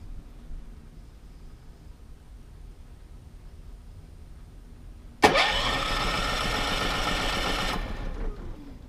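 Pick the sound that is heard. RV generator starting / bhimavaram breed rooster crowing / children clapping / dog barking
RV generator starting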